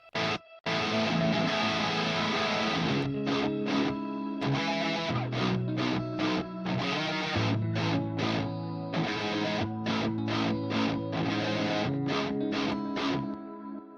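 Distorted electric guitar processed through free Valhalla effect plugins, playing a rhythmic riff with short choppy stops and sustained chords, drenched in reverb and echo, loud and alone without talk.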